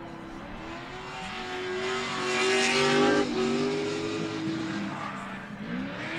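V8 drift cars run tandem through S-turns at a Colorado drift competition, engines screaming loud and close with swelling revs and tire squeal peaking midway before easing off.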